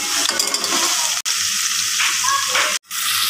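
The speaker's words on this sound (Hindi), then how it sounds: "मैंने ऑयल में डाला है लहसुन" Garlic frying in hot oil for an aloo lahsun dish, a steady close sizzle and spatter filling the pan with two brief gaps where the sound cuts out, no talking over it.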